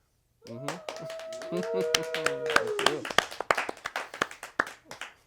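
Hands clap in a quick, irregular series of close, sharp smacks that grow denser and then thin out, following a brief sung or hummed tone at the start.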